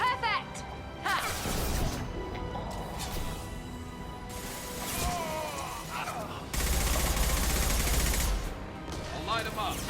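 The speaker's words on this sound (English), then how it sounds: "Firing now" Gunfire from the video game Mass Effect 2, bursts of shots and crashes in a busy combat scene with a louder sustained barrage toward the end, mixed with in-game voices.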